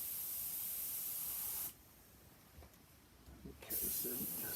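Spray paint hisses in a loud, continuous blast during graffiti work on a greenhouse, then cuts off abruptly before a second burst starts near the end.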